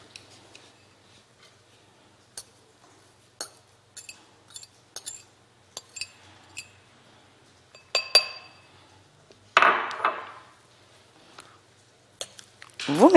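Fork tapping and clinking against a dish while chopped egg yolks and chives are mixed into a walnut-oil sauce, a series of sharp, close glassy clicks and scrapes at an irregular pace, with no talking.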